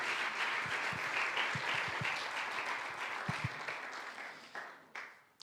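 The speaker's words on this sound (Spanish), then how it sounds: "Y viene el aplauso del pueblo de Dios que le da gracias a Él." A church congregation applauds warmly, the dense clapping gradually thinning out over about five seconds, with a few distinct hand claps and soft thumps standing out near the end.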